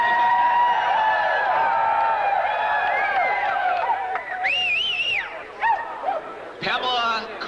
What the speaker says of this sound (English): And a round of applause for Toni Steam.